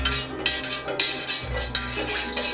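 Fragrance oil is stirred into melted candle wax in a pot, a utensil clinking and scraping against the metal in a loose, repeating rhythm, close and moderately loud.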